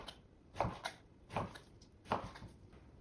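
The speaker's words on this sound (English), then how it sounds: "So I'm cutting these into strips." A knife slices filet mignon beef tenderloin into thin strips on a board, with three soft, evenly spaced chopping taps over a quiet background.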